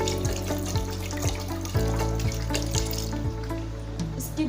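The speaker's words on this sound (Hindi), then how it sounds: "तो यहाँ पर मैं पानी ऐड करूँगी" About a litre of water is poured from a 1.5-litre bottle into a cooking pot while chicken achari pulao is being made, a steady, loud gush that runs continuously for a few seconds.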